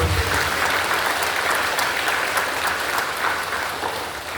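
A church congregation claps in worship, a broad, even wash of applause from a large crowd that holds steady and fades slightly toward the end.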